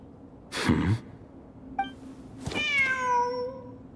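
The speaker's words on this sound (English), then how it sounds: "The cat!" Cat meowing in the video game Genshin Impact: a soft rustle, then a short chirp and one clear, drawn-out meow near and alone over a faint background hum.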